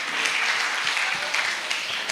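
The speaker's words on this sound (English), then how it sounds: "Give her a clap." A brief, steady burst of audience applause at a camp session, many hands clapping together at an even level throughout, with nothing else heard.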